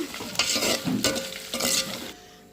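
Dried fish curry being stirred in a pan, with a spatula scraping and clattering in several bursts over a steady close sizzle. No one speaks.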